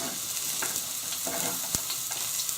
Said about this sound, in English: you can see the oil now is quite hot, so I'm just going to put in all these vegetables